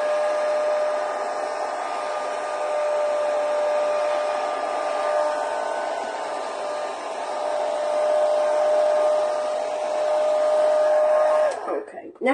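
A craft heat tool blows hot air over a mixed media floral card, giving a steady, loud whirring hiss with a constant motor tone for about eleven seconds before it cuts off abruptly.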